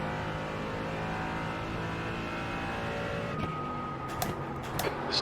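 A Mercedes GT4 race car in a racing video game at Motegi sits at the race start, its engine droning steadily, then revving with brief sharper bursts near the end; no talking.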